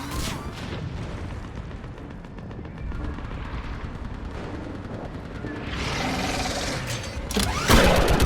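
Sustained fire from a mounted gun in Mass Effect 3, a continuous rumbling barrage of booming shots and explosions in a battle, growing heavier toward the end.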